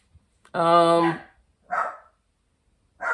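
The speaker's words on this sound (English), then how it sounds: "Dog's barking." A dog barks close by: one long, drawn-out bark followed by two shorter, rougher barks with pauses between them.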